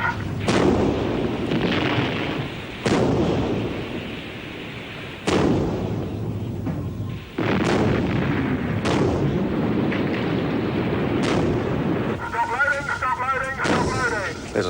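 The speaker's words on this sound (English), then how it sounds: "45 engage." A warship's naval gun turret fires about five heavy, booming rounds at irregular intervals, each blast loud and close with a long rumbling decay, followed by clanking machinery at the end.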